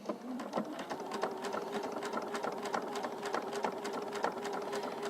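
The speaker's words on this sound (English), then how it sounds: "I'm going to go ahead and I'm going to start sewing." A sewing machine stitches quilt binding along the edge of a quilt, a close, quiet, rapid and even run of needle strokes continuing through the whole stretch.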